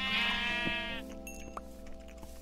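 Sheep bleating in the Minecraft video game, a drawn-out harmonic bleat in the opening second followed by quieter game sounds, with no talk over it.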